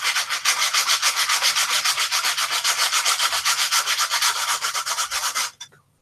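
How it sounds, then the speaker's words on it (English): Fast, rhythmic back-and-forth sanding strokes with coarse 80-grit sandpaper, loud and close, about four scrapes per second running steadily before stopping abruptly near the end, no voices. "You can feel the heat coming through the sandpaper though"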